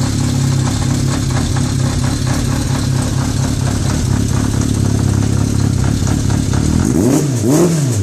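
Yamaha XJ 600 motorcycle fitted with a Takkoni 4-in-1 exhaust, idling with a steady, loud, throbbing rumble, then revved twice near the end in quick rising-and-falling bursts.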